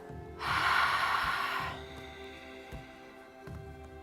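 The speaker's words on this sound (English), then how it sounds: "So just a normal inhale, then exhale, close your lips." Someone takes a slow nasal inhale and exhale with lips closed during a yoga breathing exercise, a soft close airy rush followed by quieter breath and faint low thumps.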